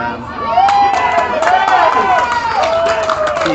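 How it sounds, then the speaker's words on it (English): Crowd noise at a women's rugby match, Ngatea Ngakau versus Te Aroha Tui, with scattered cheers and shouts under a steady, close commentary voice and some whistling tones throughout. "Love hearing the crowd and the positivity of the crowd"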